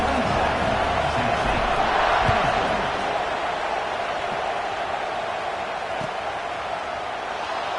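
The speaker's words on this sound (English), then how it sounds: "this crowd is buzzing after that last score" A football stadium crowd roars in a dense, steady wash after an Oklahoma Sooners score before the kickoff, loud at first and then easing slightly into a sustained buzz.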